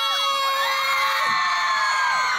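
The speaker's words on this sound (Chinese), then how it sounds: "我们需要你们最大的尖叫声" A large concert audience screams and cheers loudly and continuously, many high voices blending into a dense, sustained roar with rising shrieks that swell and fade, no talk over it.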